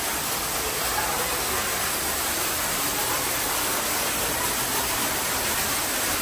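An indoor waterfall at the Houston Museum of Natural Science gives off a steady, dense rushing hiss of falling water, constant and close, with no other sound breaking through.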